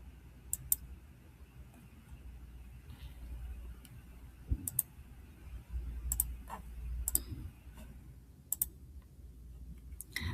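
Computer mouse clicks while digitizing an embroidery design in Embrilliance StitchArtist software, a few sharp, quiet ticks scattered irregularly over a low room hum.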